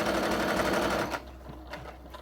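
A sewing machine stitches a continuous line along apron pockets, its fast steady whir running loud and close for about a second before stopping abruptly, leaving faint handling noise.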